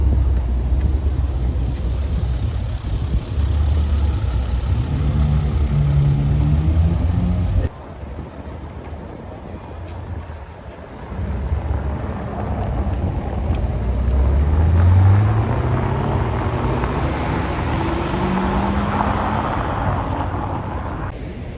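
An Aston Martin DBS Volante starts up on a Paris street, its engine catching with a loud rising roar before settling into a deep rumbling idle, with wind buffeting the microphone and a second revving swell later.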